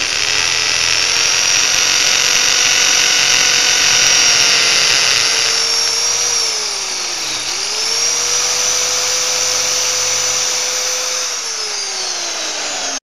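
A hammer drill bores a hole into concrete or brick with a loud, steady, high motor whine. The motor dips briefly in the middle, then runs on before cutting off at the end.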